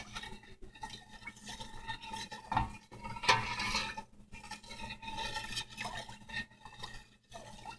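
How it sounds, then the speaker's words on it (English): A spoon stirs rennet into goat's milk in a metal pot for mozzarella, with quiet swishing strokes and a few sharper clinks and scrapes against the pot's sides, close and soft with no talk. "You need to stir it really good to get all that rennet in."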